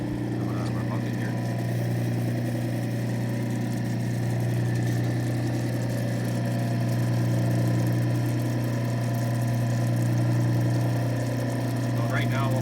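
Lapidary grinding wheels, a 600 grit and another hard wheel, run steadily with a water drip from a bucket while polishing a Chlorastrolite greenstone, a continuous near hum with a voice speaking over it.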